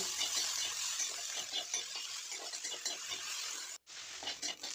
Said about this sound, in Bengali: ওর মধ্যে আমি পেঁয়াজ কুচো দিয়ে ভেজে নেব